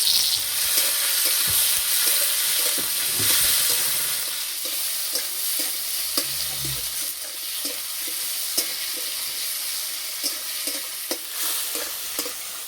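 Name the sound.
onion and tomato frying in oil in a wok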